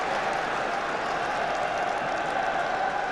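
Travelling Everton supporters in the away corner of Arsenal's Emirates Stadium cheer and clap as a corner is won, a broad, steady roar of crowd noise with applause throughout.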